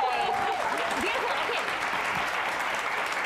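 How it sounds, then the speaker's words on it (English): Studio audience applause in a festive baking show, steady broadband clapping filling the whole moment with a faint voice briefly audible beneath it. "round of applause for this."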